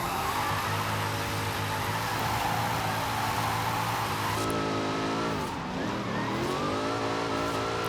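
Formula Drift car in Forza Horizon 5 revving hard and steadily, a loud continuous engine drone that shifts pitch partway through with a brief gear change before climbing again, alone without talk.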